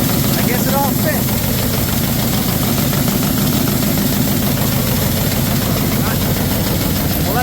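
A grain auger runs to clear out seed, a steady loud mechanical drone with an engine rumble underneath, unbroken and close, with faint bird chirps in the background.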